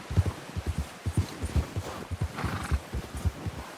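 Horse hooves thud in a rapid, rhythmic clip-clop in Red Dead Redemption 2, close and steady, with a faint horse neigh midway.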